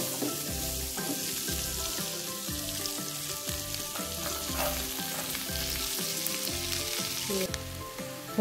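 Garlic frying in butter for white sauce pasta, a steady loud sizzle with bubbling crackle and occasional stirring throughout, no voices.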